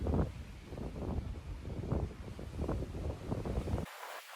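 Sea waves wash ashore right in front of a seaside pool villa on Korea's east coast at Yeongdeok, a steady rolling surf mixed with wind buffeting the microphone, ending abruptly.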